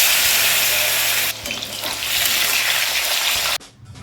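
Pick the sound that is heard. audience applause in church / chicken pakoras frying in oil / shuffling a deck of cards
chicken pakoras frying in oil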